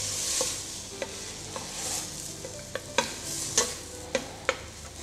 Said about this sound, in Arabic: ما لازم تدبر البصلة، لازم تدلها شوي تقرش